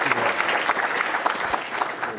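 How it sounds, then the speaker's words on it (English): An audience at a broadband summit applauds the ISPs, a steady crowd clapping that stays fairly loud and even throughout, with scattered sharper claps. "Round of applause for the ISPs."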